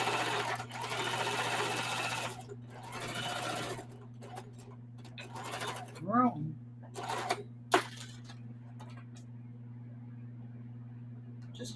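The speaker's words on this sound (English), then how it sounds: "This little machine I bought you guys is a Singer heavy duty model 4423." A Singer Heavy Duty 4423 sewing machine stitches a rag quilt, running with a steady close whir for a few seconds. It then stops amid scattered clicks and handling noises while a voice is briefly heard under a constant background hum.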